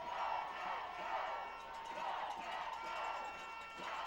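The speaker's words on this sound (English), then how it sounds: "This crowd's really getting into it now, hollering, "Go Cats, go!"" High school football crowd at a Bearcats versus Lincoln Wolves game hollering and cheering in a steady, distant roar, with rhythmic chanting swells rising and falling throughout.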